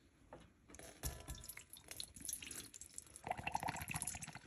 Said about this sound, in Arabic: هنحط هنا ميه دافيه